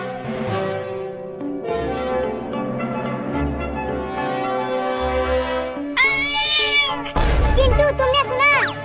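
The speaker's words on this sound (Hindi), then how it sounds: "वो छोटी बिल्ली अभी अभी बोली।" Cartoon-style soundtrack with music throughout, ending in a few high, wavering kitten meows that rise loudly near the end.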